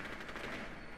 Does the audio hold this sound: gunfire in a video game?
yes